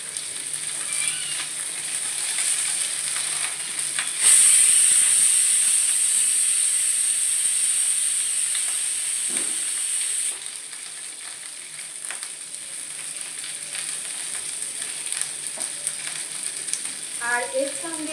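Cauliflower and carrots fry in a little oil in a pan, giving a steady sizzling hiss that swells sharply for several seconds and then settles back to a quieter crackle, with faint kitchen clatter.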